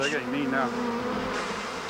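A dense swarm of honeybees drones continuously around a man in a suit made of bees, a thick steady buzz with shifting pitch that fills the whole moment, close and loud.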